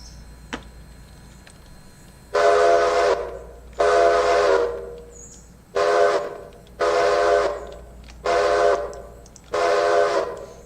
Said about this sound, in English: Yep, you're blowing the whistle,